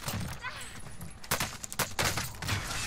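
Distant, fairly quiet gunfire in the battle royale game Call of Duty Warzone crackles as a cluster of rapid shots over a second or so. Duller background rumble and game noise run around it.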